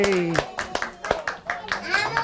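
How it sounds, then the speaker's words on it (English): Children clap in a brisk, uneven burst of about a dozen hand claps at a storytelling session, with excited kids' voices cheering over them, close and lively. "How about we'll say thank you, Bobby, by clapping."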